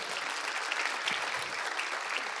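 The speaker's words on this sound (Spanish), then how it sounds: "un aplauso para todos, por favor" Church congregation applauding during a Spanish-language Christian sermon, a short burst of steady, moderately loud clapping with no talk over it.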